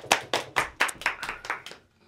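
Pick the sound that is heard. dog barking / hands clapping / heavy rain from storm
hands clapping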